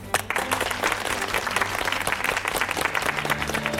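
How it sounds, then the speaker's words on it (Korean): A studio audience on a Korean talk show welcomes guests with warm, dense applause, a steady burst of many hands clapping close and loud, holding without pause for a few seconds. "여러분 박수로 맞이해주십시오"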